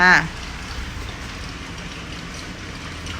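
Heavy rain pouring down outside a home kitchen, a dense steady hiss that continues evenly after a brief burst of a voice at the very start.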